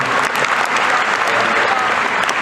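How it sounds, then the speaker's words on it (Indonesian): Audience applause at a stand-up comedy segment of a university student orientation event, steady dense clapping from a crowd filling the whole stretch at close range. "Tepuk tangan bagi teman."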